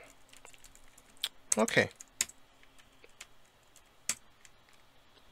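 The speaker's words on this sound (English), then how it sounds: "I connected Logitech K380 Bluetooth keyboard. Let's try if it works." Keys clack on a Logitech K380 Bluetooth keyboard in short, irregular bursts of taps, with a brief cluster of quick strokes and scattered single clicks, close by, and a voice speaks once.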